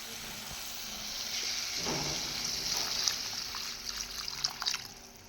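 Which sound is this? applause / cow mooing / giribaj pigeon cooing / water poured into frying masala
water poured into frying masala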